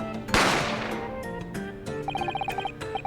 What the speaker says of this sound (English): A gunshot rang out